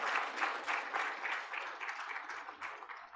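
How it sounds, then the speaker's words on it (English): An audience in a lecture hall at a medical conference applauds a speaker after his talk, a warm continuous clapping with soft rhythmic surges, heard alone and moderately far off for the full few seconds. "Once again, we clap for him."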